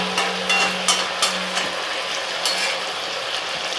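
Local chicken curry with potatoes fries in a pan, a steady close sizzle with soft stirring scrapes and a faint low hum underneath.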